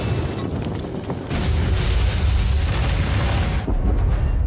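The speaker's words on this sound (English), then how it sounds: "Nobody outside the used store sees or hears this explosion" Explosion in the South Park: The Fractured but Whole video game inside a used store, a loud sustained rumbling boom that swells after the first second and fills the whole stretch with dense noise.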